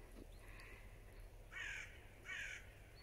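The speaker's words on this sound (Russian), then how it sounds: "Птички поют." Crows caw by the Gauja river near Ādaži, two distinct harsh calls a second apart. They sound moderately distant over a quiet outdoor hum with faint road traffic.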